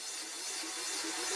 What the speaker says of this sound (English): this one here is a downlifter sweep